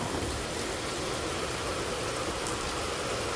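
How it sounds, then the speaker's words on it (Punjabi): Heavy rain pours steadily, a dense, constant hiss of drops with a low rumble beneath, loud and unbroken throughout. "ਮੀਂਹ ਦੇਖੋ ਕਿੰਨਾ ਤੇਜ਼ ਆ ਗਿਆ ਹੋਰ ਵੀ ਬਹੁਤ ਤੇਜ਼ ਆ ਗਿਆ ਮੀਂਹ"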